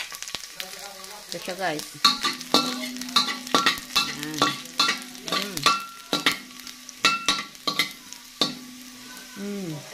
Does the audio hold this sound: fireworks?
no